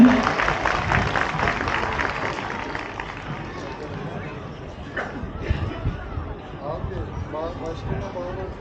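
Audience applause for a district governor at an outdoor Turkish culture festival with an official protocol ceremony, a dense wash of clapping from a large crowd that slowly thins over several seconds, with crowd murmur mixed in.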